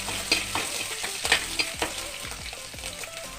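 Green chillies sizzle in hot oil in a pan for a Chinese potato (koorka) curry, with nearby crackling and several distinct scraping stirs over a continuous fry.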